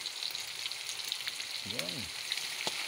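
Black beans sizzling in a pan with fried tofu and pork, a steady fine crackle throughout, briefly joined by a short spoken word.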